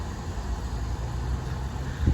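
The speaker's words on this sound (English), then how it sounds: "It's a very quiet engine." A 2011 Subaru Legacy 2.5i Limited idles quietly, a low, soft, even engine hum with a faint low thump near the end.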